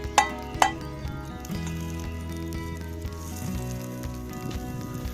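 Butter melting in a pan set in campfire embers gives a steady soft sizzle, opened by two sharp metallic clinks of the pan, with no voices.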